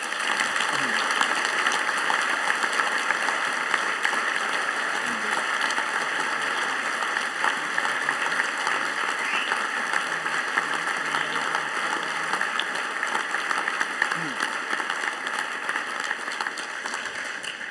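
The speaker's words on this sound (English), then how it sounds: "let's give them a round of applause." An audience applauds steadily at a university graduation afternoon ceremony, honouring a brass ensemble. The dense clapping stays loud and continuous for the full stretch, with no pauses.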